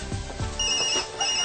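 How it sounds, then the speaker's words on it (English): A mobile phone ringtone chimes loudly in repeated bright tonal bursts, close and clear with no talk over it, after a couple of short knocking sounds at the start. "ever since breakfast my phone's been ringing off the hook"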